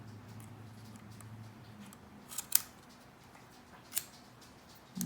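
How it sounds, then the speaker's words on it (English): A few quiet, sharp snips of scissors cutting, spaced apart in an otherwise quiet space. "I'm literally just putting the scissors right under the deck."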